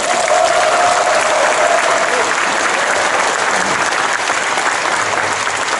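A packed hall audience at a basic income expo applauds, dense sustained clapping close by with a brief tone at the start, continuing without pause.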